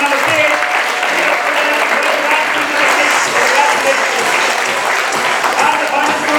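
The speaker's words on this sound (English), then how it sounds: "But do not forget to clap equally thunderously for the first runners-up." Thunderous audience clapping at a quiz competition grand finale, honouring the first runners-up, a dense sustained wash of applause that holds steady throughout.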